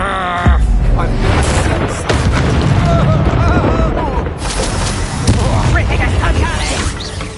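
Confringo explosive spells in Hogwarts Legacy combat, with a loud booming blast after half a second followed by further bursts and crackling impacts, while a voice talks over much of the fight.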